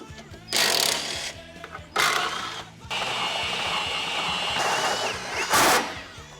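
A hole saw on a power drill cuts 3.5-inch holes through a car's front panel for intercooler pipes, coming in loud grinding bursts separated by short pauses.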